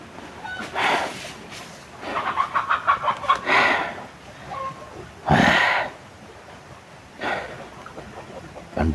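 Chickens, several of them, cluck and call at moderate distance in an outdoor spot with free-roaming ownerless fowl; the bursts are intermittent and uneven, with short lulls between them.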